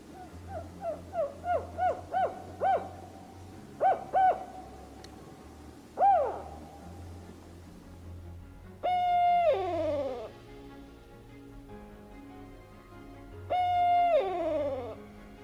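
Owl hoots recorded in a forest where northern spotted and barred owls are monitored: a series of short rhythmic hoots early on, then two longer, louder descending calls, clear against quiet woodland.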